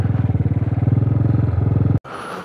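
A motorcycle idles at the Khardung La pass checkpoint with a loud, close, steady pulsing thump, then cuts off abruptly near the end, leaving quieter outdoor background.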